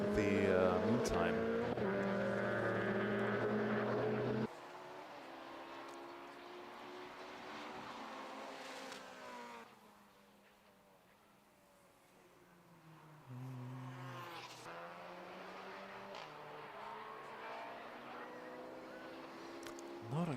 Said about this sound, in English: Alan Shepard in the AirTech Motorsport Toyota GR Yaris.